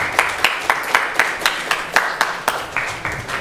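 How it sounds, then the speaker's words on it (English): Applause at a Sunday temple gathering after a call for another round, a loose, fairly close burst of about a dozen distinct claps in an uneven rhythm, with no speech. "Please give them another round of applause."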